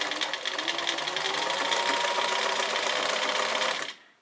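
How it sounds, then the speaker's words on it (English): A sewing machine runs steadily for about four seconds, zigzag top stitching around an overlocked fabric edge, then stops; a dense, fast mechanical whir close by with no talking. "I've set it on a zigzag and I'm going to top stitch it really carefully all the way around to hold that overlocked edge in"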